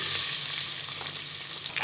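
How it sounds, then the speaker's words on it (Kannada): Onion fries in hot oil for the tempering of a fenugreek-leaf and field-bean sambar, making a loud, continuous, close sizzle with a crackling hiss throughout. No one talks. "ಒಗ್ಗರಣೆಗೆ ಎಣ್ಣೆ ಹಾಕಬೇಕು ಒಗ್ಗರಣೆಗೆ ಈರುಳ್ಳಿ"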